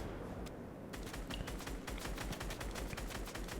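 Rocket launcher and gunfire in a Fortnite squad match: rapid crackling bursts and sharp repeated shots over a steady game background, fairly quiet, with no talking.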